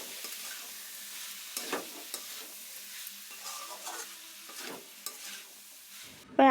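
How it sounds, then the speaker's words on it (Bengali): Diced potatoes sizzle quietly in a pan as they are fried with spices for Bengali ghugni, with repeated scraping stirs, soft and close. "এবার আলুটাকে মশলার সাথে ভালোভাবে কষতে হবে।"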